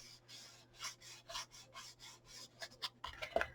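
Paper being smoothed and rubbed by hand over the back of a small card tea-light box, giving soft repeated swishing strokes, close and quiet, with no talking.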